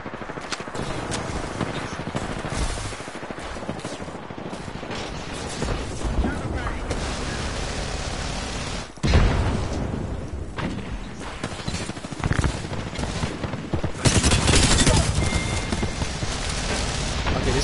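Gunfire in the Apex Legends video game comes as dense, continuous loud bursts that run almost the whole time, with a voice talking over parts of it.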